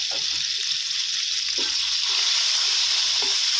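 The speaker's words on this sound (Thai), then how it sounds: "ใส่น้ำมันไปหน่อยนึงอ่าแล้วก็ใส่พริกแกงลงไปผัดให้หอมนะครับ" Steady oil sizzling as curry paste stir-fries in a pan, with occasional soft scrapes of a utensil stirring, close and continuous.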